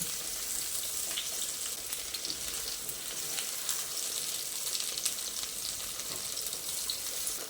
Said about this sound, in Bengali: নুন হলুদ লঙ্কা ও বেসন মাখানো বেগুনগুলো এই তেলের মধ্যে দিয়ে দিচ্ছি বেগুনগুলো দিয়ে একটু লালচে করে ভেজে নেব